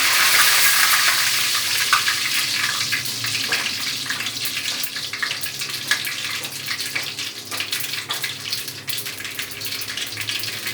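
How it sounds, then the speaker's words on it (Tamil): Mustard seeds splutter in hot oil for curd rice, a loud, continuous hiss with rapid crackling pops throughout, close by and with no voices. "எண்ணெய் காய்ட்டும் நல்லா. பாருங்கள், கடுகு பொடிட்டேன்."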